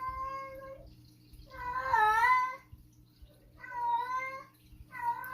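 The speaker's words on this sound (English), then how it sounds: "Oh no, the cats can be meowing." Several cat meows come in separate drawn-out calls, fairly clear and close, with quiet pauses between them and a low steady hum underneath.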